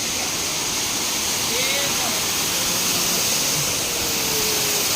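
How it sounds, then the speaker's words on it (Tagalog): A small waterfall at a farm in Baco, Oriental Mindoro rushes with a steady, loud, broadband wash of falling water that fills the whole stretch, with faint voices now and then underneath. "Maliit na waterfalls."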